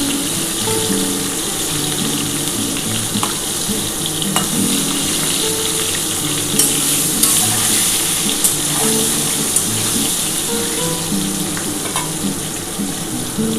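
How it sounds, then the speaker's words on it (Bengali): Bay leaf and whole cumin seeds tempering in hot oil for a chicken curry, giving a steady close sizzle with small pops and occasional utensil clinks, no voices. "এই তেলের মধ্যেই আমি প্রথমে কিন্তু তেজপাতা দিয়ে দেবো, গোটা জিরে ফোড়ন দেবো"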